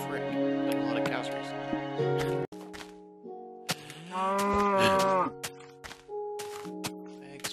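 Minecraft cows mooing, several drawn-out harmonic moos, one long and loud in the middle, over a steady background tone with someone talking at the start.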